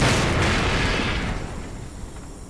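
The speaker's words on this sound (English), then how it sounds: "there's this huge explosion" A huge explosion sound effect from a haunted Western tabletop game, a loud booming blast that rolls on and slowly fades away.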